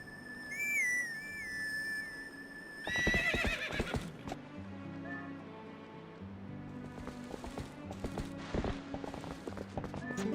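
A horse in the video game The Legend of Zelda: Twilight Princess whinnies loudly at the start, then hooves clip-clop steadily over the ground as it approaches, with a whistle-like tone early on.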